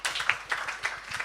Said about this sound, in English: Give her a big hearty clap.